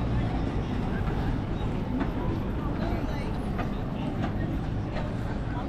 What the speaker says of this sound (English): There goes the tram.